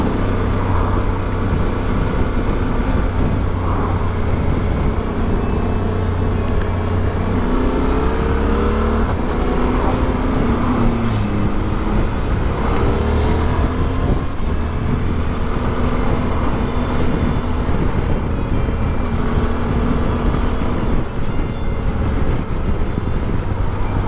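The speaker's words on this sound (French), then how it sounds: "quand on ouvre la poignée des gaz, on n'a même pas besoin de l'ouvrir à fond en fait pour vraiment sentir l'accélération du moteur" A Suzuki motorcycle, from the V-Strom DE and GSX-8S pair, pulls hard under throttle, its engine note rising and shifting pitch across the run, loud and continuous with steady road and wind roar beneath.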